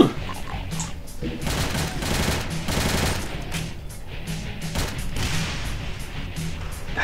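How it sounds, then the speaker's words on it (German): Exploding barrels in Doom's Sigil episode, played in GZDoom, burst in a rapid chain of loud, crunching blasts that roll into one another, with debris crackle trailing after each boom. "Dass die immer so einen Krach machen müssen, diese Fässer."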